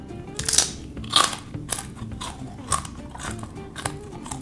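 Several loud crisp crunches as crispy fried rice cake is bitten and chewed, spaced out irregularly, close up with no talking.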